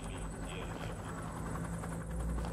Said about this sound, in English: Chopper here.